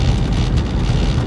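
Steady, loud low rumble of wind buffeting a car moving west on I-72 in a December storm, a dense roar filling the low end without pauses or voices.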